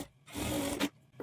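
Sewing machine stitching the folded half-inch edge of a blouse sleeve, one quiet whirring run of just over half a second with a brief catch at the end, then near silence.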